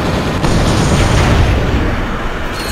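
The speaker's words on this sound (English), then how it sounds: "Try using the nitro launcher against that vehicle" Nitro launcher blast against an enemy vehicle in Ratchet & Clank: Up Your Arsenal, a loud, dense boom with rumbling debris that fills the whole moment before tailing off, no voices.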